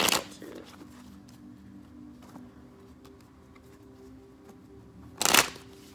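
A deck of tarot cards is shuffled, a sharp riffling burst at the start and another near the end, with quiet room tone between.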